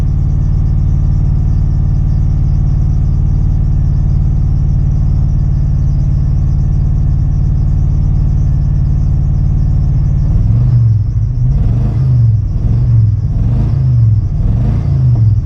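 A motor idles with a loud, steady, close rumble for about ten seconds, then revs up and down in several rhythmic surges.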